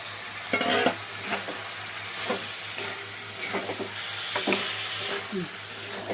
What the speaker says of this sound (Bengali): একটু নাড়াচাড়া করতে হবে।